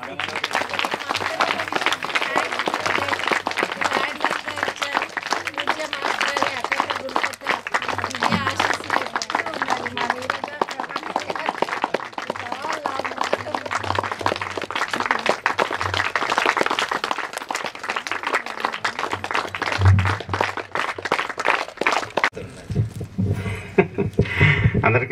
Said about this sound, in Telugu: చాలా గట్టిగా క్లాప్స్.